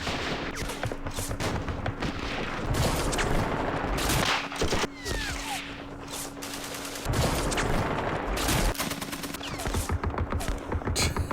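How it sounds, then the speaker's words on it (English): Rapid machine gun fire in the Vietnam-era war game Campaign Series Vietnam, set at Dien Bien Phu, with dense bursts and crackling volleys that keep overlapping loudly from start to finish, joined by scattered heavier shots. "so let's use the machine guns"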